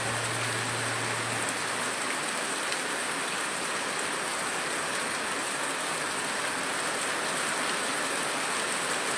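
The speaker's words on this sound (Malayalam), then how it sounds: "നെയ്യാറ്റിൻകര, അമരവിള, വെള്ളറട ഭാഗങ്ങളിൽ കനത്ത മഴ തുടരുന്നുണ്ട്." Heavy summer rain pours steadily in Neyyattinkara, Kerala, a dense, even wash of drops on surfaces that stays constant throughout with no voices.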